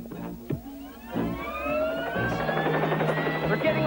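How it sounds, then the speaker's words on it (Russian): A helicopter in a Police Academy animated episode, its rotor and engine building from a few thumps into a loud, steady whine, with voices heard briefly at the start. "Быстро, вертолет."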